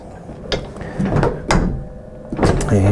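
Pressure adjustment knob on a Spectra heat press being loosened, giving a few close mechanical clicks, creaks and knocks at irregular intervals.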